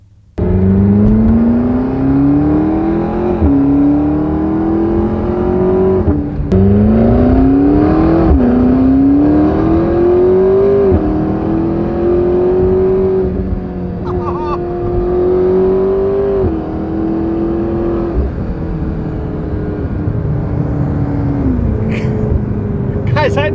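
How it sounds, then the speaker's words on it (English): A turbocharged car accelerates through several gear shifts, its exhaust droning and rising in pitch, with a quick blow-off hiss near the end. "When the blow-off valve kicks and the shifts happen"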